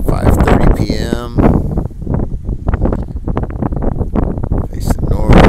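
Strong gusty wind batters an outdoor microphone at sunset, producing loud, continuous low roaring buffets. Someone talks over it throughout.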